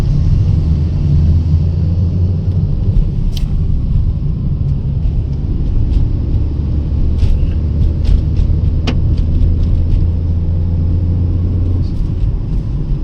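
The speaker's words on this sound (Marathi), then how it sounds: "ट्रक चाललेले आहेत." Trucks driving along a road during the rainy season produce a continuous heavy, loud rumble with a few faint clicks and no speech.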